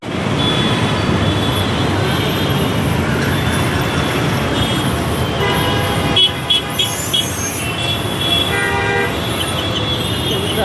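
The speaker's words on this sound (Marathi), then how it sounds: "ट्रॅफिक आहे बघ." Dense road traffic rolls past an ST (MSRTC lalpari) bus on the Mumbai–Kolhapur route, with repeated car and bus horns honking through the middle and later part over a steady engine and road roar.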